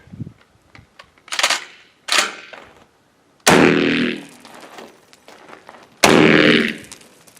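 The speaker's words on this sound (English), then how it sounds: "the right board is going to be shot with the regular Fiocchi rifled slug, and the left board is going to be with the exploding hollow point" DP12 shotgun firing a Fiocchi rifled slug and an exploding hollow point round, with two loud, sharp blasts several seconds apart, each ringing out afterward, following a few lighter clicks and handling knocks.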